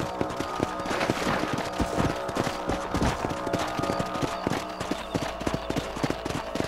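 Horse hooves clip-clop steadily and loudly in the Red Dead Redemption video game, a fast continuous riding rhythm with dense overlapping hoofbeats close by, no talking.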